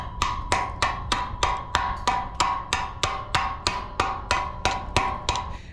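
A Leatherman tool chips weld slag off oil pipe with steady, evenly spaced metallic taps, about two per second, each a sharp ringing clink. The taps come close and fairly loud with no talk over them.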